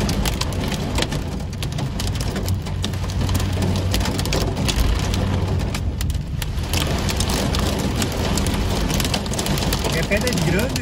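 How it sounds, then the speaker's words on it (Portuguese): Hailstorm in Nova Petrópolis, Brazil, with dense hailstones drumming and clattering steadily on surfaces, heavy and continuous throughout, mixed with rain and wind, while someone speaks over it. "E do nada, agora, conforme vocês estão vendo aí, chuva de granizo, olha só."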